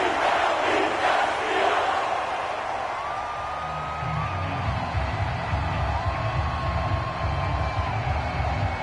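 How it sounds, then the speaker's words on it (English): A stadium crowd in a football video game shouts and roars in a loud, continuous wash of noise, with a few rising whoops standing out, and no commentary over it. "Plenty of shouts from this crowd as they watch the replay."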